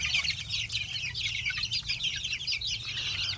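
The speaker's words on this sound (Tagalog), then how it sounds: "Marami ang hene dito." Hens and young chicks of a gamefowl bloodline cluck and cheep together in a farm pen, a dense continuous chatter of many birds at moderate distance over a low background rumble, with no talking.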